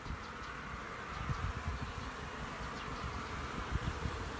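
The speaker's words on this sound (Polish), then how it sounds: "Pszczoły ruszyły masowo do oblotu i zbierają pyłek" Steady, dense buzzing of many honeybees close by at a hive entrance, a continuous drone with small swells and no voices.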